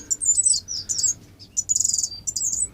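Finches and waxbills in a home aviary chirping close by, a busy run of high, thin tweets and rapid twittering trills that overlap in quick bursts with short gaps.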